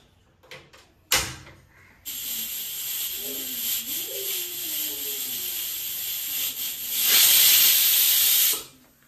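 Steam hisses sharply from a pressure cooker whistle on a home kitchen stove, a steady loud rush that swells stronger toward the end before cutting off abruptly, with a few faint knocks and low murmurs beforehand.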